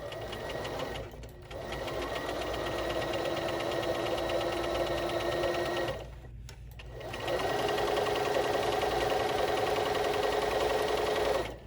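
BERNINA sewing machine stitching an invisible zipper, a steady close mechanical whir in two long runs separated by brief pauses, with no talking.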